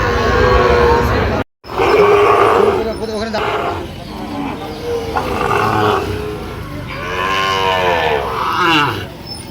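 Sahiwal cattle at a market give long, loud, drawn-out moos over a busy background of people talking and crowd noise.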